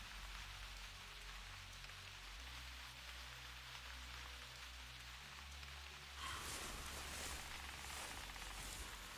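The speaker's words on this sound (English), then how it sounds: "I think it's the rain." Rain falls in theHunter Classic, a soft steady hiss of drops on surfaces that swells brighter and denser near the end, faint and with no talk.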